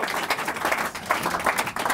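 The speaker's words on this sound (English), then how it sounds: "give them a round of applause for doing such a thing" An audience at The Magic Castle, a magic venue, applauds with steady, dense clapping that carries on evenly throughout with no talking.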